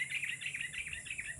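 Sooty-headed bulbuls (kutilang) near their nest give a quick run of bright, repeated chirps over a steady high insect hum, clear and fairly close.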